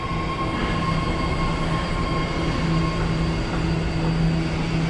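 A subway train at Civic Center station in San Francisco gives a steady, loud rumble with a faint metallic squeal throughout, heard close up with no talk.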